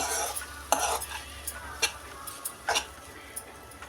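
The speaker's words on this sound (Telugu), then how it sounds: "యాడ్ చేసి బాగా కలపాలి, బాగా మిక్స్ చేయాలండి" A spoon stirs cooked quinoa into paneer pulao in a pot, giving irregular clinks and scrapes against the metal, several sharp taps spaced out over a quiet background.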